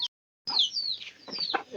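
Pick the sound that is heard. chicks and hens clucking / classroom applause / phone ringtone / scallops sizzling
chicks and hens clucking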